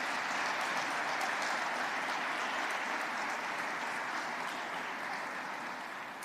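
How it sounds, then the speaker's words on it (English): Steady applause from a large audience at a Commonwealth Veterans Day ceremony, a dense even wash of clapping that holds throughout and fades slightly at the end. "Let's just give them another round of applause."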